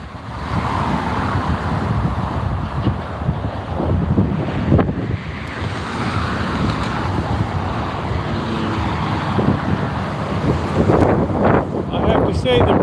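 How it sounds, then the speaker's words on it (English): Strong gusts hit the microphone outdoors, a heavy buffeting roar that swells and eases without pause, with bursts of louder thumping near the end and faint voices under the wind. "it's so windy"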